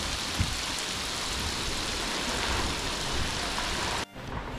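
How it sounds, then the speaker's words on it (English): Steady heavy rain pouring down on a boat at anchor in a small Caribbean cove off Martinique, a dense continuous hiss that drops briefly near the end before resuming. "It just started raining."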